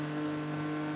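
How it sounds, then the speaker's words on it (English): An LMP2 prototype race car at the 2017 24 Hours of Le Mans gives a loud, sustained engine drone with a steady pitch, filling the whole short moment without a break. "So P2 car just goes whizzing past."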